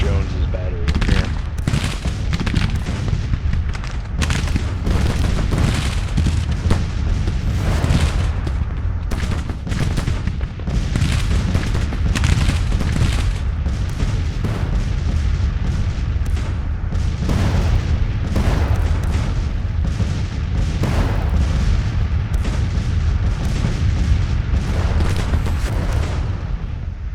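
Civil War artillery in Grand Tactician: The Civil War, a battery pounding another near Winchester, with dense, continuous booms and gunfire rolling throughout, loud and close, with faint voices underneath.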